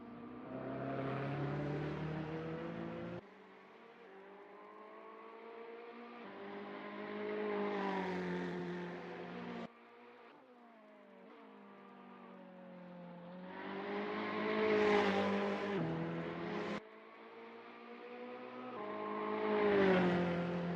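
A Ferrari 488 GT3 racing engine howls around Interlagos in Assetto Corsa, rising through revs in long pulls and dropping sharply on each upshift, loud and alone for about twenty seconds.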